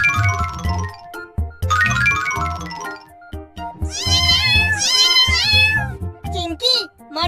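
Several kittens meow repeatedly in high, wavering cries, loud and close, in a cartoon scene with overlapping voices and other sounds.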